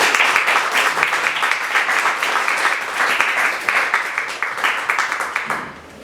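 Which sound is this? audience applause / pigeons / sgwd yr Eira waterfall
audience applause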